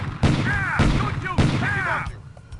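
Gunfire in the tactical shooter SWAT 2, with two loud broad bursts each followed by a ringing, whistling tail, the shots dense and close and a short quiet gap after them.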